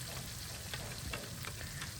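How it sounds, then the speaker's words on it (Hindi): Vegetable masala paste, blended from vegetables, sizzles and fries in hot oil in a pan for a cabbage and pea curry, a steady crackling hiss with small stirring pops and no voices. "उसके बाद आपने जो पेस्ट रेडी किया है सब्ज़ियाँ ब्लेंडर में डाल के, वो पेस्ट आपने यहाँ पे ऑयल के अंदर ऐड कर देना है।"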